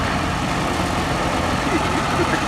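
A Russian nine-cylinder Vedeneyev M14 radial aircraft engine of 360 horsepower runs close and loud on a Hawker Nimrod Mk.1 biplane at an airfield, a dense unbroken roar with a rough, throbbing texture.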